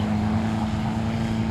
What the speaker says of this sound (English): as they start revving their engines.